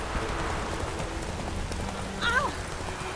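Steady rain hisses and patters throughout in the video game The Witcher 3: Wild Hunt, with a brief high warbling cry near the end.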